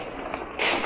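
Gunfire crackles during a prison riot, caught in a news report: a short, harsh burst of shots over a noisy background, with no speech.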